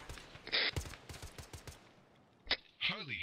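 Gunfire in a military shooter video game, several close, sharp rapid shots in a quick burst, then a single loud report and trailing noise, with a voice speaking in between.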